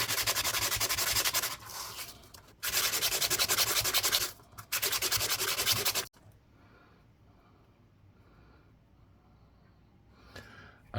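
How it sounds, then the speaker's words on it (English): Sandpaper rubs against a coin ring made from an Alaska state quarter in close, loud scratchy strokes, two long passes and a shorter one, then quiet handling. "let's give it a bit more of the old sandpaper"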